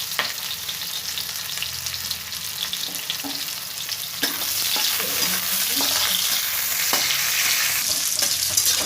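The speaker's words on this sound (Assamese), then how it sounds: "কেৰাহীত যিখিনি তেল আছিলে সেইখিনি তেলকে দি দিছোঁ। তাতে পিঁয়াজ দি দিছোঁ।" Onions fry in oil in a wok with a steady close sizzle that swells louder partway through, with occasional scrapes and clinks of stirring.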